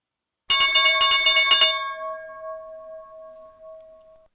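A stock market opening bell rings loudly in a rapid series of about five or six clangs, then a bright metallic tone lingers and slowly decays for a couple of seconds, with no voices.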